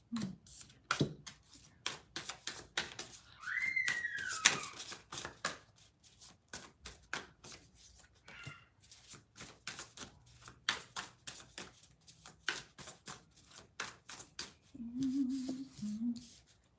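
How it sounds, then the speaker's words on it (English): Tarot deck being shuffled and handled, a run of soft riffling card slaps and quiet rustles at close range with brief pauses between bursts. "I'll go ahead and pull some cards from my tarot deck."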